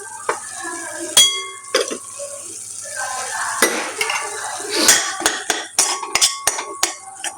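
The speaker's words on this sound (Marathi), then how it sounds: "छान प्रकारे ह्याला स्मॅश करून घ्यायचं, हलवून घ्यायचं" A spoon stirs and mashes spiced drumstick curry with turmeric, red chilli and homemade masala in a pan, making repeated close metallic clanks and scrapes over a soft frying hiss, with sharp irregular knocks.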